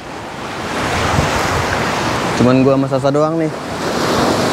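Surf washes steadily onto a quiet, empty beach at Karang Bolong in Kebumen, a broad wind-blown roar throughout, with a person's voice speaking briefly over it midway.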